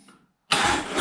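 A Suzuki Alto, unstarted for a few weeks, cranks into life after a brief quiet, a sudden loud burst of engine noise that holds steady and close as it catches, with no talk over it.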